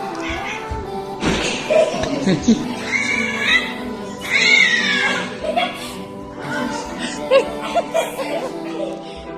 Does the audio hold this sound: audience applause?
no